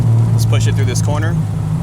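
A 1968 Triumph TR250 is pushed hard through a corner, its steady loud engine drone running throughout while a person talks over it.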